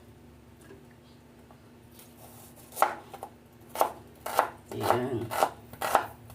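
Onions for arroz caldo being chopped on a board, with several crisp knife strikes at uneven intervals, close and clear, and a brief spoken word among them.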